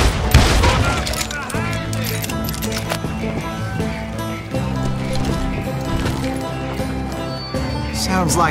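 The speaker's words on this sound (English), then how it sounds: "Sounds like Garrett hired a whole regiment of hired guns" In a video game, a dense barrage of gunfire from many guns crackles and booms continuously, layered with music and sound effects, with a voice speaking over it.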